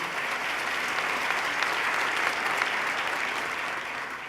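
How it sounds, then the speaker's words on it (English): Steady, sustained applause from an audience at a governor's State of the State address, a dense wash of clapping that holds evenly at full strength throughout with no voices rising above it. "Let's give him another round of applause, Mr. John Mack."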